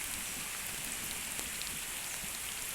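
Heavy rain falls steadily and densely on fields and coconut trees, a constant hissing patter on surfaces all around, with no voices.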